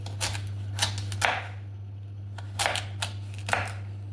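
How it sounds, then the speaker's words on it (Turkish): A knife chops sweet potatoes into large chunks on a cutting board in several separate, crisp strikes with uneven pauses, over a steady low hum. "Evet iri iri doğrayalım."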